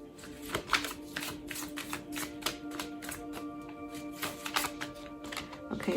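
Tarot cards being shuffled by hand during a reading, a steady run of soft riffling and tapping flicks, close and continuous, with no talk over it.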